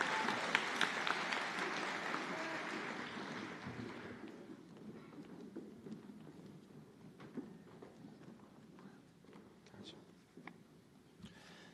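Applause from a crowd at a nursing school white coat ceremony, louder in the first few seconds and then thinning to scattered claps over a windy, roomy background.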